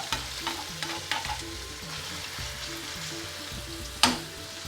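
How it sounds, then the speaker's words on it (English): Onion frying in a pan for a tofu tikka rezala curry, a steady close sizzle broken by the scrape and tap of stirring about once a second, with one sharper clack near the end. "Now with the onion, we just want to soften it, we don't actually want to brown it."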